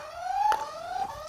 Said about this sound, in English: Okay, the buzzers are working.